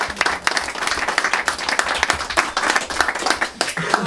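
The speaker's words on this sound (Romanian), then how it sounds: "Aplauze pentru Dumitru Sârbie" An audience at a book launch in a bookshop claps loudly, with sharp individual hand claps standing out in a lively, close ovation and no speech over it.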